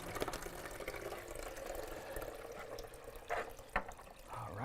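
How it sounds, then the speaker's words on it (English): Water pours steadily from a BWT water pitcher into a coffee machine reservoir, a continuous trickling stream with a few brief clunks near the end. "So I'll just fill up and using the BWT water pitcher here to make sure I get some high quality H2O."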